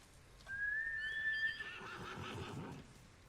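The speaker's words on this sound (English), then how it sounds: "Meet my horse, Nobu." A horse in Ghost of Tsushima gives a single clear, fairly close whinny with a high sustained tone, followed by a rougher snorting tail, with no speech.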